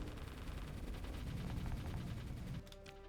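A needler weapon firing from a pirate ship in the space combat game Starsector, heard as a fast, repetitive stream of faint, rattling shots in quick succession with no voices.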